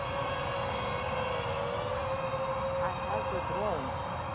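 A DJI FPV drone flies outdoors on its first flight, its steady high-pitched motor whine running continuously throughout, with a voice talking over it.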